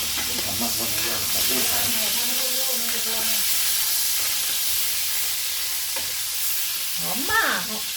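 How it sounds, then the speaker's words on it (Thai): Salted fish frying in oil, giving a steady sizzle and hiss throughout, close by, with a voice talking over it in the first few seconds and again near the end. "อันนี้ก็เป็นปลาเค็มที่เอามาทอดนะนี่"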